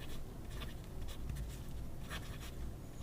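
A Pilot Metropolitan fountain pen with a sticky nib scratching across paper in short strokes, close and steady over a hissy background, with no voices.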